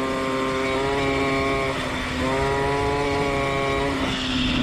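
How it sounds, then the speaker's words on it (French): A motorcycle engine being revved at about half throttle drones loudly and close, its tone holding steady then briefly dropping as the power cuts out around the middle and again near the end before picking back up. "J'accélère pas fort, ouais, on va dire mi-gaz. Elle prend ses tours."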